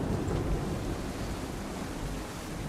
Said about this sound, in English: Heavy gusts, Captain.